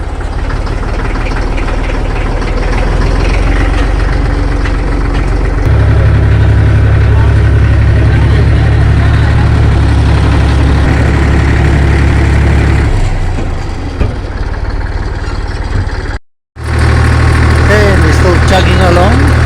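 A vehicle engine chugs slowly at about 10-15 km/h on the way to the Guano Caves near Montague, a steady low rumbling drone heard from inside that deepens partway through and cuts out briefly near the end.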